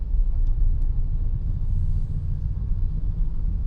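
A Toyota Innova Hycross ZXO hybrid is driving, with a steady low road rumble and cabin drone throughout and no talk.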